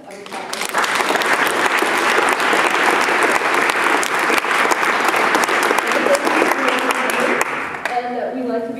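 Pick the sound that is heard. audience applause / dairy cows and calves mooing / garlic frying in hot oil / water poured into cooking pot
audience applause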